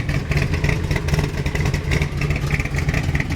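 A Cobra replica with a 427 side oiler Ford V8, top loader 4-speed and Ford 9-inch rear, idling with a steady, loping low rumble and mechanical clatter, close and continuous with no talk.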